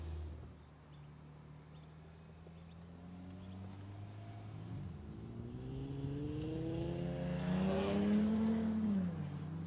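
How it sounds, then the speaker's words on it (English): A V6 Holden Commodore's engine and exhaust rise in pitch as it revs and accelerates, growing louder toward the end before easing slightly. "V6 Commodores never sound good"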